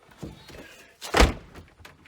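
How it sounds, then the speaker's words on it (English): A door shuts with a solid thunk followed by a lighter click of the lock, close and fairly quiet, with a couple of softer knocks around it in a property being closed up for winter. "Lock that door."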